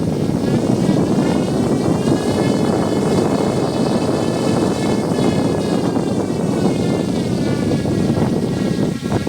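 A small high-RPM DC drone motor spins at around 3000 RPM, giving a loud, continuous propeller-like whir at a steady pitch close by.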